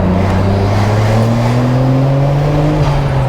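Nissan Skyline R34 GTR with a louder aftermarket exhaust, its engine revving under load with a deep, rising drone that climbs steadily, loud and close, with no talk.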